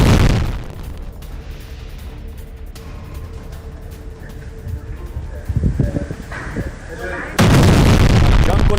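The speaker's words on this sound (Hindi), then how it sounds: "ये देखिए, बुरखान मिसाइल दागी है उसने, हिजबुल्लाह ने इजरायल के ऊपर।" A Burkan missile launched by Hezbollah toward Israel, heard as a sustained rumbling roar with bursts of booming that swell near the end into a loud, steady blast.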